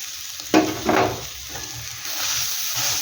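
Green peas hit a hot frying pan with a burst of sizzle, and a spoon stirs them through, followed by a steady, close frying hiss.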